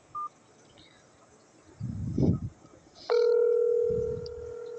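Calling a real estate office phone line after the automated menu: a short beep, some faint murmuring, then a steady, clear telephone ring tone that holds for a couple of seconds before trailing off.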